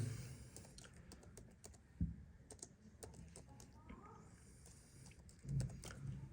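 C++ code being typed on a computer keyboard, quiet irregular clicking of keys in quick bursts with a few louder taps, close and faint.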